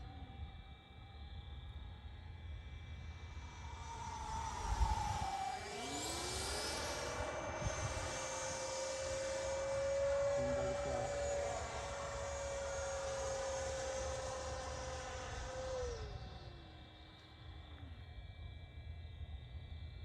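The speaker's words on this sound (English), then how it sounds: "slow pass, barely on the throttle" A Freewing Avanti S 80mm electric ducted-fan RC sport jet makes a slow, low-throttle pass, its whine rising and bending in pitch as it approaches, sweeps by steadily and fades, heard outdoors at moderate distance.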